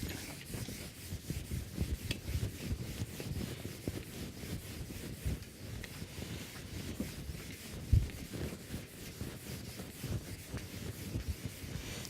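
Writing being rubbed off a classroom board, a soft continuous scrubbing and brushing with irregular strokes, close but quiet, with one brief louder knock.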